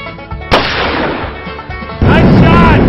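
A single loud, close gunshot rings out during outdoor target shooting, a sharp crack followed by a long echoing tail, with a heavier second burst of noise near the end.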